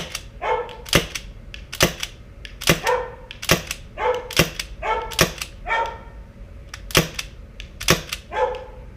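A dog barks repeatedly in sharp, loud bursts, roughly one or two per second, mixed with quick clicking snaps.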